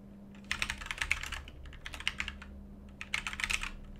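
Rapid bursts of clicking keystrokes on a computer keyboard as a headline is typed into an ad layout on a desktop, close and fairly quiet, in quick clusters with short pauses between.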